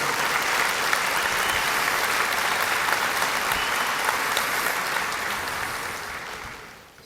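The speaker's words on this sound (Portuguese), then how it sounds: "Pode aplaudir." Applause from a church congregation during a service, dense and steady for about six seconds before tapering off at the end, with no voices over it.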